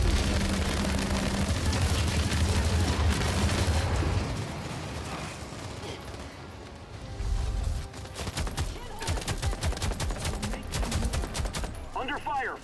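Video game firefight with heavy gunfire, dense rapid bursts and scattered shots, loud throughout, the clatter growing sharper toward the end.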